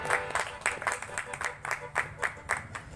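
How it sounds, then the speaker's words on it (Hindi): A church congregation applauds in a steady, rhythmic burst of clapping, moderately loud and close, continuing for several seconds without talk. "पास्टर रफाकत को दावत देंगे कलाम हक के लिए, आपकी जोरदार तालियों में।"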